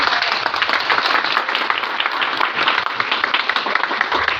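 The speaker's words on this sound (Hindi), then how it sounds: "ये तालियां हमारे लिए नहीं, ये तालियां आप सबके लिए" An audience at a May Day labour event for the Sahiwal water and sanitation services company in Okara claps continuously, a thick, even wash of applause holding steady throughout.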